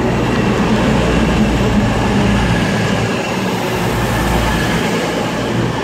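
A CrossCountry Class 220 diesel train arrives at Bristol Parkway station, a loud, steady rumble of engine and rolling wheels heard close up from the platform throughout.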